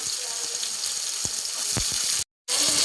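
Onions fry in a hot pan, giving a steady, close hiss of sizzling oil that stays loud and even and cuts out briefly near the end before resuming.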